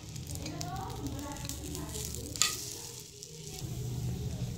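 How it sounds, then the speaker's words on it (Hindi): Egg-soaked bread shallow-frying in oil over a low flame gives a faint, steady sizzle, with one brief sharp clink midway. "इसे अच्छे से मैंने फ्राई कर लिया है।"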